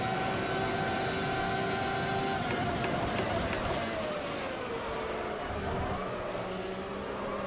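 An F1 car engine in the racing sim Automobilista, a loud, continuous high-revving whine that climbs and falls through gear changes, with someone talking over it.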